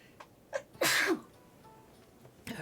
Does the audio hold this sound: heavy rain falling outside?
no